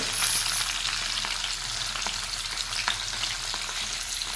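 Fish frying in hot oil in a home kitchen, a steady close sizzle with crackles and small pops throughout, no talking.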